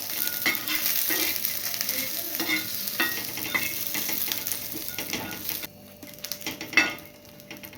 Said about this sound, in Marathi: चार ते पाच लसणाच्या पाकळ्या टाकायच्या शेंगदाणे टाकायचे व्यवस्थित आपण हे भाजून घ्यायचे